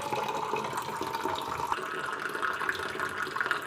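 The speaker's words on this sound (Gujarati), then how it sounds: "આમાં પાણી ભરાઈ ગયું છે, હવે આપણે નળને બંધ કરી દઈએ" A tap runs steadily into a container, giving a continuous hiss of pouring water with no pauses and no voices, heard close up at a modest level.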